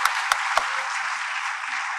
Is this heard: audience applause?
yes